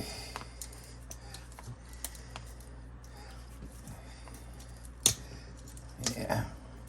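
Cutters snipping supports off a 3D printed figure, with faint small clicks and a couple of sharper snips, quiet and close.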